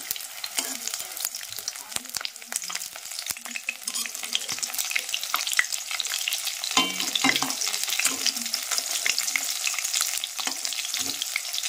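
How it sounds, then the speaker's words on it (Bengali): Pieces of fish frying in a pan, a continuous dense crackling sizzle running throughout, with faint occasional clinks and a brief stir partway through, close and even in level. "তো এটাকে ভেজে এখন রেখে দেবো, প্রায় হয়ে এসছে, আর একটু সময় লাগবে"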